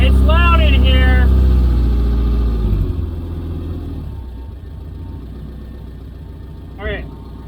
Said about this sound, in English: it's idling on its own. I'm not even touching the throttle.